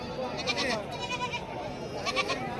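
Goats bleat several times at a busy goat and sheep market in Shirur, Maharashtra, the calls blending into crowd chatter and background voices.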